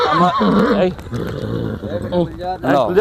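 A horse at the 2024 Pushkar fair whinnies in clear, wavering bursts near the start and again at the end, with voices and background activity in between.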